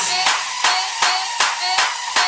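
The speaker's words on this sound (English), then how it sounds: "Yeah, clap your hands to this." Six loud, evenly spaced hand claps about every 0.4 seconds, keeping time over a steady music bed at a 4th of July–style party.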